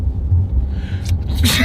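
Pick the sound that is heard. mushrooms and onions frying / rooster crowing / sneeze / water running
sneeze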